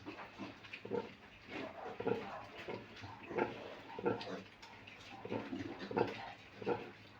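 Large White pigs, a sow nursing her piglets, give repeated soft grunts and squeals in an irregular rhythm, fairly faint and close, with no talk.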